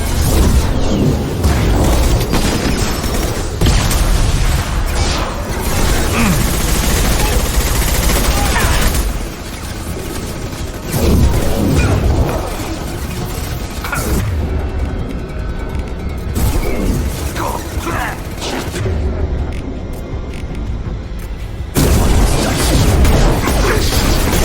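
Intense combat in the video game Mass Effect 2, with a loud, continuous barrage of rapid gunfire, heavy crashing impacts and booming grenade blasts that rarely let up, punctuated by brief lulls.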